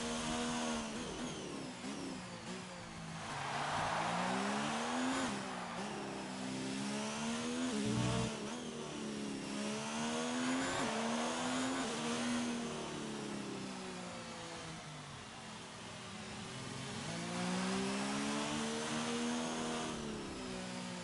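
Several Formula 1 race cars on an out lap in an F1 video game at Abu Dhabi drone past, their engines rising and falling in pitch as they accelerate, lift and pass, loud and continuous throughout.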